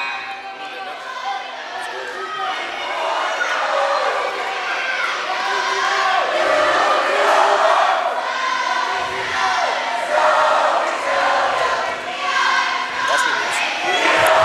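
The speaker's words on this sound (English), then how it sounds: "Comet crowd singing a victory chant here." A school crowd at a girls' basketball game between CHS and Maconaquah chants a victory cheer in a gym, a loud, continuous wall of massed voices with shouts rising over it for the whole stretch.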